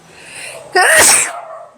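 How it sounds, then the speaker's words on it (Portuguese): A woman sneezes once, close and loud, with a brief breathy intake just before it. "Ai, vontade de espirrar."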